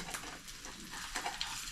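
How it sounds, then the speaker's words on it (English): An egg frying in a pan for a simple breakfast, a soft continuous sizzle with a few light scrapes as a spatula flips it, quiet and close. "this egg is ready to flip, so we'll do the old flipperoo here"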